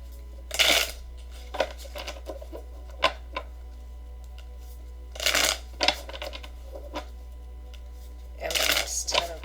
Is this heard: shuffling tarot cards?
yes